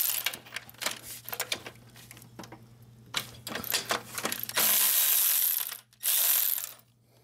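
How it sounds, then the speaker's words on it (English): Ratchet loosening torque bolts on the shifter cable bracket of a Chevy/GMC 4WD truck transmission, heard as close bursts of clicking pawl strokes and metallic tool handling, then a louder sustained clatter. "So I'm gonna undo these two torque bolts and then I'm gonna remove this nut over here"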